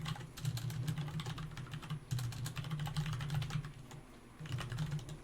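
Rapid keyboard typing on a computer, close and continuous with brief pauses, clicking keys forming an even, busy rhythm with no talking.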